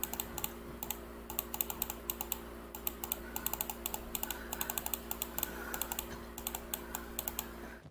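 Rapid, repeated mouse clicking while training thievery in the game Kenshi: dozens of sharp, close clicks in an uneven but steady rhythm over a low, constant electrical hum.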